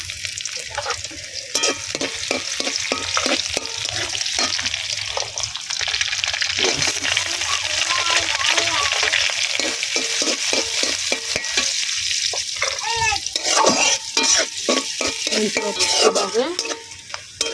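Taro leaves with garlic fry in a pan over a clay stove on a rooftop, giving a loud, close crackling sizzle with repeated rhythmic scraping and stirring strokes throughout.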